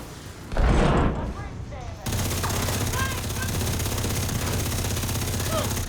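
Gunfire in The Division 2, a sustained burst of rapid automatic fire starting abruptly and running steadily under a continuous roar of game sounds, with a loud blast at the start.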